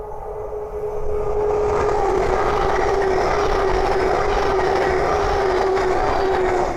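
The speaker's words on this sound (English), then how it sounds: "the next train to pass by is a Hull Train 800" A Hull Trains Class 800 passes on the East Coast Main Line at Great Wymondley, its steady roar swelling after the first second and holding loud and close for the rest.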